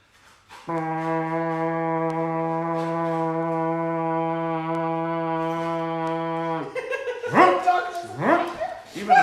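A pet dog barks and yips right after a long, steady blaring imitation of the QE2 ship's horn, the barks coming in several loud, close bursts with rising whimpering yips between them.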